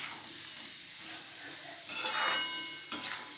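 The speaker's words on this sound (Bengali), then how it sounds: "কাজু কিশমিশ সব দিয়ে দিয়েছি একসঙ্গে, এটাকে একটু হালকা ভেজে নেব" Cashews and raisins lightly frying together in a pan, a quiet steady sizzle that swells into louder scraping stirring bursts near the end, no voices.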